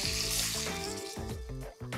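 Water is poured into a very hot pan for cooking pork chops with white beans, hissing and sizzling loudly and steadily, with bubbling pops throughout.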